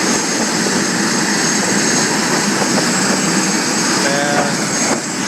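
Loud, steady roar with a high whine from turbine helicopter engines at an airport, running continuously at close range.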